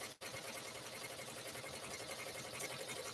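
An embroidery sewing machine stitches small circles, giving a continuous, fairly quiet rapid mechanical chatter that runs unbroken except for one brief dip at the start.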